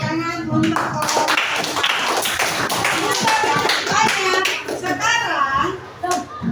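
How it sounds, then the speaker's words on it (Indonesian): Schoolchildren in an Indonesian classroom clap for a group, quick irregular hand claps that stay steady and close throughout, with children's voices chattering among them. "Iya, tepuk tangan untuk kelompok."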